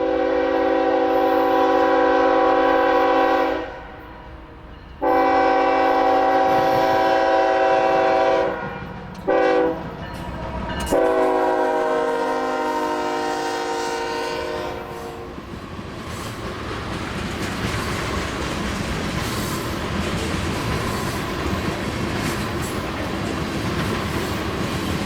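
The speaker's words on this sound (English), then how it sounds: "Another CSX train waits in the background for the KO42 to pass." A CSX freight oil train passes near Auburn with a long, loud, multi-tone horn sounding in several blasts. The horn gives way to the rumble and clatter of tank cars rolling steadily past on the track.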